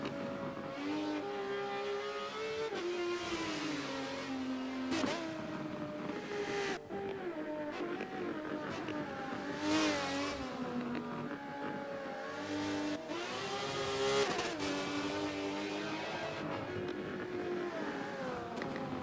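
A V8 Supercar race car engine on track at Bathurst holds a steady, continuous roar, its pitch sweeping up and down through gear changes and rising at several points across the run.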